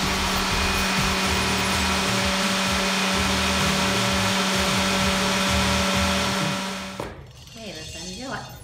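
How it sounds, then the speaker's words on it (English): A Ninja blender crushing ice makes a loud, steady motorized whir with grinding texture for about seven seconds, then cuts off and a voice speaks. "This is my Ninja blender here with crushed ice."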